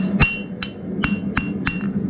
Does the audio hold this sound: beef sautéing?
no